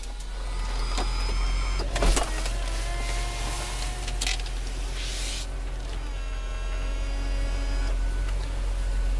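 Power soft top on a 2007 BMW Z4 M Roadster retracting, a whining electric motor with clicks and mechanical clunks over a low idle hum, close and moderately loud.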